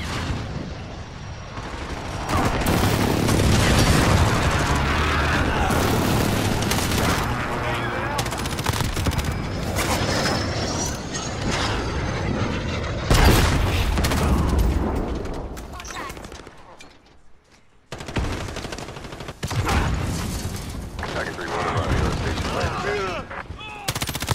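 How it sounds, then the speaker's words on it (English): Dense gunfire and heavy airstrike explosions roar almost continuously in the shooter game Modern Warfare, loud and close, with short lulls between bursts and brief voice callouts over the battle. "friendly position airstrike inbound"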